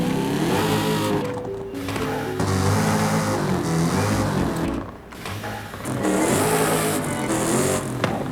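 A Dodge Magnum SRT8 with its stock exhaust revs in Forza Horizon 5, the engine note rising and falling through repeated throttle blips, loud and close with no talk over it.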